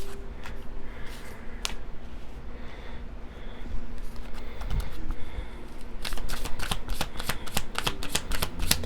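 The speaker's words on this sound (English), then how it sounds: "I'm gonna shuffle these cards here." Paper playing cards are shuffled close by, a soft riffling rustle that builds into a run of sharp crisp flicks and snaps near the end, with no voices.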